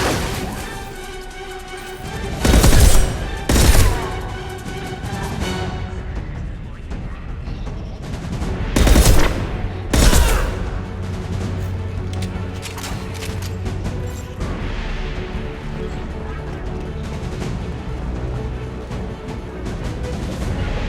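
Combat gunfire in the video game Mass Effect 2, in the Shadow Broker's lair: two loud clusters of sharp weapon blasts over a continuous droning game soundscape.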